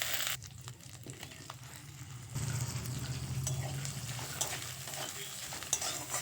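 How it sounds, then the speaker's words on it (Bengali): Ground spice paste fries in a pan for a vegetable curry, making a continuous close sizzle and crackle with stirring scrapes on top and no voices. "আমি যেহেতু এখানে বাটা মশলা ব্যবহার করছি তাই মশলাটা খুব ভালো করে ভেজে নেব"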